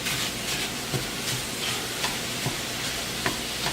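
Ground beef, a pound and a quarter of 80-20, frying in a pan with mushrooms: a steady close sizzle and hiss, broken by a few soft scrapes and clicks as it is stirred.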